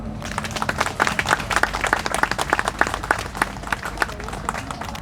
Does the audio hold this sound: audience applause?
yes